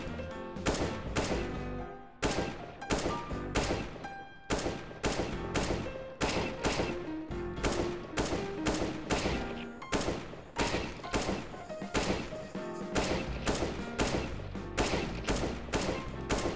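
Rapid rifle fire from a CS:GO deathmatch, with dense bursts of gunshots repeating steadily and loudly throughout, close and punchy with almost no gaps between volleys.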